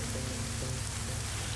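Steady rain hisses densely in a military shooter video game, a continuous close wash of drops with a low engine-like drone underneath.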